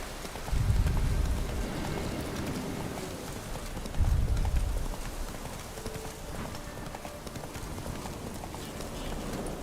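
Roach the horse galloping in The Witcher 3: Wild Hunt, a continuous fast drumming of hooves close up with dense rumbling surges, steady and loud throughout.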